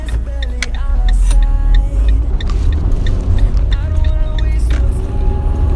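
A 2012 Fiat Punto 1.2 pulls out of a junction, its engine a close low rumble rising slightly as it moves off, with interior ticks and clicks over the top.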